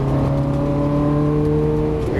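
A Ferrari on a race track under full throttle, its engine holding a loud, steady droning tone close by with a slight rise near the end, while a voice talks over it.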